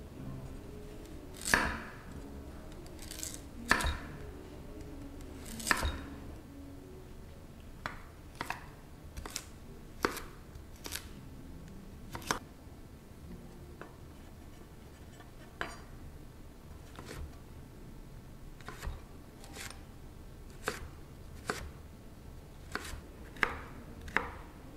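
Carrots are chopped with a knife on a cutting board, sharp irregular knocks coming in quick bursts and scattered single strikes, close but fairly quiet.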